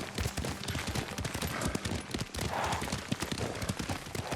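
Horse hooves clattering at a steady gallop in the Ghost of Tsushima video game, a dense rapid rhythm of thuds that continues without pause, moderately loud under a noisy background.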